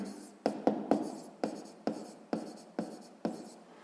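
Close, scratchy strokes of a pen or pencil writing out a math equation by hand on paper, in short bursts and taps at an uneven pace, with no talking.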